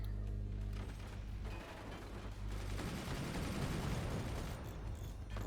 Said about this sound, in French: ils m'ont tiré dessus, je crois, avec un minigun